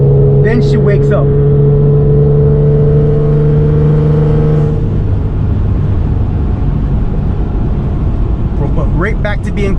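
A straight-piped Ford Explorer Sport, heard from inside the cabin, drones at a steady low tone, then swells into a louder, rougher exhaust roar as the throttle opens partway through, holding loud to the end.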